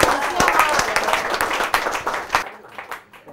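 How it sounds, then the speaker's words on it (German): Applause in a German talk show, steady clapping from a studio audience with a few sharper claps standing out, cutting off near the end as the room quiets, with voices underneath. "Und das ist richtig, jawohl, Applaus!"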